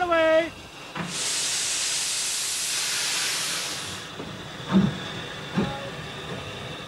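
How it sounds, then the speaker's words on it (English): Steam train ride at old docks: a long, loud hiss of released steam runs for about three seconds, followed by a few soft thumps and clanks of the carriages, with no talk over it. "First, there's a ride on this steam train."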